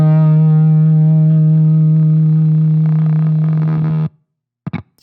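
Distorted electric guitar through a hard noise gate on a Line 6 Helix, one heavy sustained low note ringing loud for about four seconds before being clamped off abruptly into silence, followed by two short choppy bursts.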